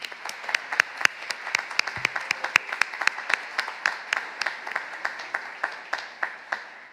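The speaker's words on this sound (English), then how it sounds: "Let's give them a round of applause." A crowd applauds steadily for several seconds at a school graduation, the sustained clapping mixed with distinct individual claps, at moderate volume from a short distance.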